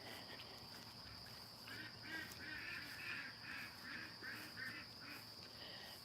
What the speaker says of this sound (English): Well, the ducks are going to talk to y'all now. You hear them?